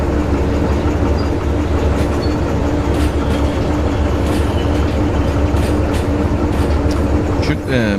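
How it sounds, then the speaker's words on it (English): Trains rolling along rails in the Derail Valley railway simulator, a steady loud rumble of wheels and wagons with faint rhythmic clacking throughout, and a brief squeal of wheels near the end. "We now got 2 trains connected."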